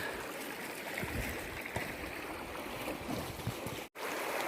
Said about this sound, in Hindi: देखिए ये जो है झरना